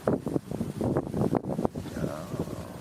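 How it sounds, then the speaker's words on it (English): Wind blows into a microphone outdoors near boats, making uneven low rumbling gusts and buffets that rise and fall in rapid bursts, loud and close. "it's windy, and I'm not gonna lie, I'm cold"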